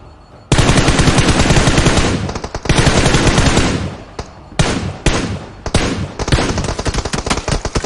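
Gunfire from a player in the PUBG Mobile game, loud and close: a long sustained automatic burst, then a second burst, then clipped separate shots and short rattling volleys.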